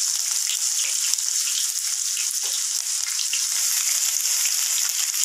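Onions hiss and crackle as they fry in hot oil with mustard seeds, a steady, dense, bright sizzle that holds for several seconds, close and loud with no talking.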